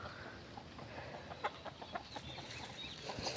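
Large hens and a rooster on a village farm give scattered, soft clucks over a constant background wash. The birds are faint and somewhat distant, and no one speaks.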